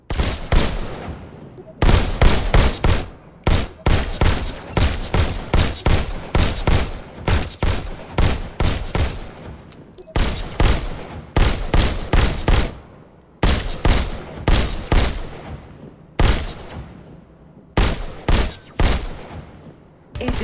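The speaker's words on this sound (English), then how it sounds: "Now you're armed. Just squeeze the trigger to shoot." Pistol fire in the VR shooter Robo Recall: loud, rapid volleys of sharp shots in tight clusters, broken by brief pauses and continuing steadily for about twenty seconds.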